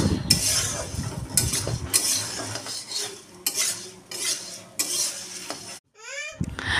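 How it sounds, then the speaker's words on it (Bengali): Bursts of scraping and rattling as puffed rice is fried in a pan come in short rhythmic strokes, close up, with a brief pause before the stirring resumes. "এদিকে মুড়ি ভাজা করছি"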